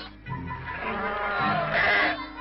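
Sheep bleating nearby as they are pushed into a sheep dip bath against parasites, a few wavering calls overlapping into one drawn-out cry.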